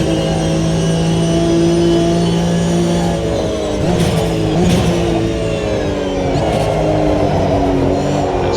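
Loud, sustained engine note from a Porsche race car in GRID, revving up and easing off through shifts with a few short gear-change blips, close and steady throughout.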